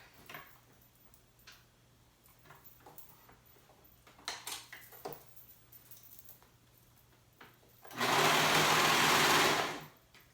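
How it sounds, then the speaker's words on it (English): A sewing machine stitches the back seam of a tank top. Quiet ticking and fabric handling lead into a loud, continuous two-second run of the machine near the end. "now I'm gonna go ahead and sew it starting from the back"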